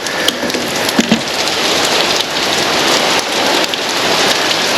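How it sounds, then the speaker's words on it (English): Heavy rain pours steadily onto a surface during a downpour at a fishing spot, a dense, loud, continuous hiss of drops with no pauses. "We'll just wait a couple minutes out for the rain to slow down a little bit."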